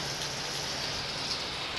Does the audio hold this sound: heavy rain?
yes